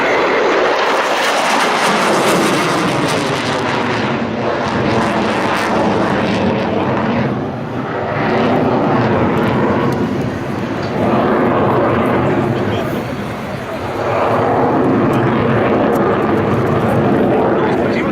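An RAF Eurofighter Typhoon jet flies an airshow display at RIAT 2013, its loud, sustained engine roar swelling and sweeping in pitch as it passes, dipping briefly before surging again.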